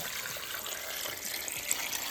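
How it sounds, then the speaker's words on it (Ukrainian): Water is poured steadily into a cooking pot to start a borscht broth alongside charred onion, making a continuous close splashing hiss for about two seconds with no voices. "Заливаю водою."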